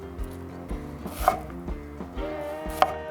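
A knife shaves raw onion into thin slices on a cutting board, producing a quick run of soft, close chopping taps in an uneven rhythm with a couple of sharper knocks.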